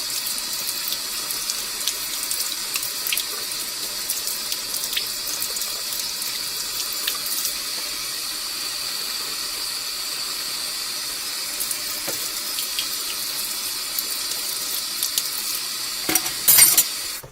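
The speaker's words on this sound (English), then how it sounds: "Rub a stainless steel spoon under water" Tap water runs steadily into a sink, a constant bright hiss with brief splashy bursts near the end.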